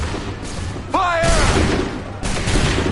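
A volley of musket fire in Assassin's Creed III, with a shouted order followed by a loud, booming fusillade of many guns at once that rumbles on, then another burst of shots near the end.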